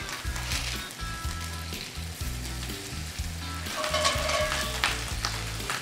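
Risotto cakes sizzling and frying steadily in a hot pan, a continuous crackling hiss with occasional louder spatters, close and alone without talk.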